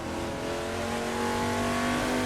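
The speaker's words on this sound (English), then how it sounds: "revving it hard" A Ford XA Falcon's engine revs hard and steadily on a flying lap around Bathurst, a loud, continuous racing drone with a strong low hum that climbs slightly in pitch, heard from close by with no talking.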